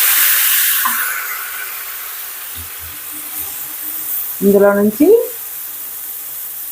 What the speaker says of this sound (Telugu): ఆ వాటర్ కూడా ఇనిగిపోయేంత వరకు ఫ్రై చేసుకుందాం